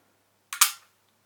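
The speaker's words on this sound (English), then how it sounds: "with the flash turned on, you just release the shutter" A Kodak M38 film camera's shutter releases with the flash on, a sharp double click, close and clean, then quiet.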